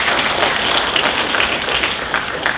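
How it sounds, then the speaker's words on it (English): A high school audience at a Science National Honor Society induction ceremony applauds steadily, a dense, even wash of clapping from many hands throughout. "So please join me once again in applauding all our new Science National Honor Society members."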